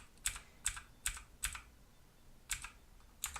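Keys on a Motospeed CK108 mechanical keyboard clack in six distinct, sharp strokes at a slow uneven pace, close and fairly quiet with a pause in the middle, no talking.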